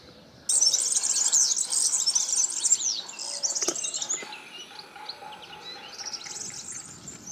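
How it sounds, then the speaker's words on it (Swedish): Birds chirp and sing in the open Portuguese countryside near Castro Verde and Almodôvar, with bright, overlapping calls that start suddenly and continue over a quiet rural background with no traffic or voices. "Hör ni fåglarna?"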